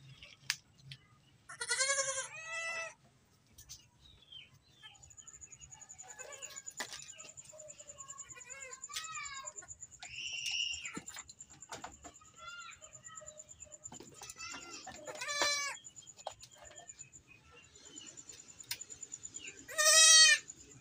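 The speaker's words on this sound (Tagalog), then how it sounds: "Okay, may kambing dito. Ayan, kinakain niya no." Goats on a farm, including young kids, bleat repeatedly: several loud, wavering cries rise and fall across the stretch among quieter bird chirps and a thin steady tone, with no voice over them.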